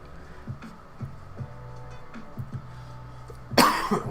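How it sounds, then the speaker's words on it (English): A single sharp cough bursts out near the end, following a few seconds of soft rhythmic ticking and quiet background noise. "got that Rona cough"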